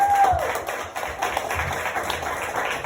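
Audience at a live preview show in St Paul applauds, a dense steady wash of clapping held for a few seconds at close, even loudness.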